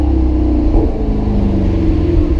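Maserati GranCabrio MC Stradale engine holding around 2,000 RPM, a loud, steady low rumble with deep harmonic drone, heard close up from inside the moving car.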